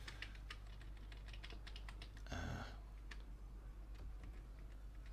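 Computer keyboard arrow keys tapped in a quick irregular series of soft clicks, near and quiet over a steady low hum, with one brief louder burst midway and no voices.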